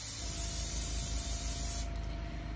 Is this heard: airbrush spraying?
yes